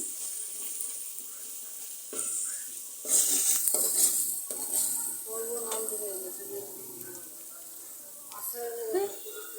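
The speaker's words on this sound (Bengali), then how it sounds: "এখানে আদা বাটা দিয়ে একটু নাড়াচাড়া দিতেছি" Ginger paste being stirred in a pan for mango pickle: soft sizzling with scraping spoon strokes against the metal and occasional clinks, faint and close, with a voice talking at points.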